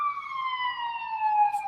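A fire department truck siren wails steadily as the truck comes up a city street, a single sustained tone sliding slowly downward, clear and moderately close, with no talking over it.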